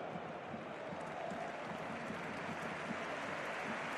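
Faint, steady stadium applause for footballer Nico Williams at an Athletic Club versus Real Sociedad match, a distant crowd clapping without break.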